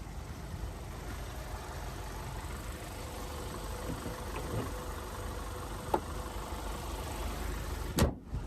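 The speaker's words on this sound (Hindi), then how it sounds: "तो ये था 1500 सीसी डीजल इंजन" A 1500 cc diesel engine in a 2022 Kia Carens Luxury Plus automatic idles steadily with a low, even rumble, joined by a few faint clicks and a brief sharp knock near the end.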